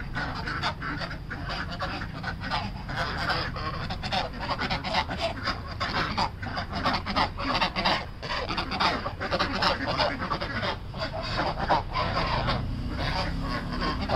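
Ducks and geese at a bird farm in Pune keep up a dense, steady chorus of quacks and honks that overlap continuously, close by and fairly loud, with no talking.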